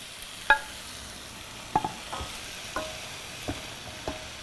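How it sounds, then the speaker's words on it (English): Octopus cooking in a pan with olive oil, a quiet low sizzle punctuated by several sharp utensil knocks and clinks spaced a second or so apart, no voices. "The octopus is going straight in."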